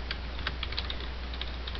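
Quick, light clicks of typing on a computer keyboard, a brisk uneven run of keystrokes close by and fairly quiet, with no talking.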